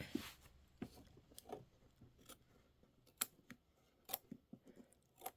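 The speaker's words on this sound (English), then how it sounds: "I am just going to go ahead and trim that stitch" Scissors trimming loose thread from a machine-embroidered stitch on a fabric pillow block, a series of sharp close snips in an irregular rhythm with quiet handling noise between cuts.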